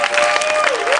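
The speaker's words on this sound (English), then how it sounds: "A round of applause for our contestants." Dense, steady applause from a crowd at a kids' talent show, loud and continuous throughout with no gaps.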